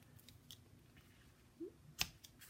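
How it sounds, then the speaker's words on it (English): Scissors snip the ribbon ends of a double bow on an Easter greeting card, one sharp crisp cut standing out near the end after a few faint handling rustles in a quiet room. "I'm going to cut the ends shorter"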